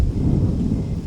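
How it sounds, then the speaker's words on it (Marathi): Deep rolling thunder rumbles continuously and heavily during a night rainstorm, low and loud with no voices. "मध्येच एखादी वीज अशी लखलखायची की दिवस उजाडल्याचा भास व्हायचा आणि मागोमाग मोठा गडगडाट."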